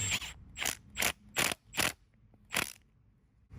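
Ratchet wrench tightening bolts on a Honda PCX125 scooter during servicing: six distinct bursts of rapid clicking, close and loud, with short pauses between them and no talk.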